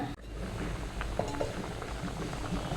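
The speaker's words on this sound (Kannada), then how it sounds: "ಇವಾಗ ಚೆನ್ನಾಗಿ ಕುದೀತಾ ಇದೆ" A thick fish egg curry masala with dried fish bubbles in a pot, giving a soft continuous simmer with small pops and bursts close by, steady and without talk.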